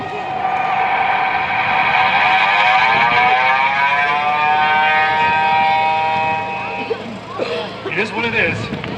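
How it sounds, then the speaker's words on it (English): A mini German three-port siren winds up into a loud, sustained wail with rising tones, then cuts off and fades into rumbling noise and voices toward the end. "this is my mini German three-port siren"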